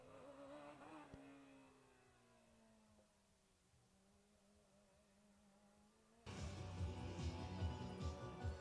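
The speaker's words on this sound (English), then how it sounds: "as the car passes by" A Formula Student race car on an endurance lap, its engine note sweeping and fading as it passes at a distance, then a loud, rough surge of engine and crowd-like noise arrives abruptly near the end.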